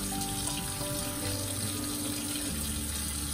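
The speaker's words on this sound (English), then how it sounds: "vigorously wash it and let the soap really saturate" A crochet doily washed vigorously by hand in soapy water made with Dawn dish soap, giving a continuous close sloshing and splashing with no pauses.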